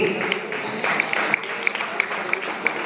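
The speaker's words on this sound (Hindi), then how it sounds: "इनके लिए भी तालियों से नवाजिएगा इनको भी" A crowd at an Islamic religious gathering gives a light round of applause, soft steady clapping with a few sharper individual claps standing out at regular intervals.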